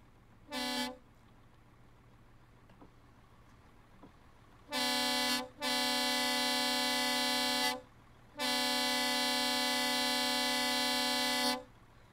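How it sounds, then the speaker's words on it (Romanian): A MAN truck horn in Euro Truck Simulator 2 gives a short tap, then after a pause a brief blast and two long sustained blasts of two to three seconds each, loud and close over a quiet idling engine hum. "Cam așa se aude claxonul."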